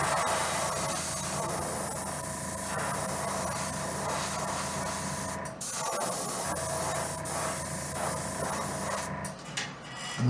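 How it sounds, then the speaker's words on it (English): Black paint is sprayed lightly over the back of a perch fishing lure: a steady, close airbrush hiss running almost continuously, with one brief pause midway. "I'm going to lightly dust black over the top of the back here"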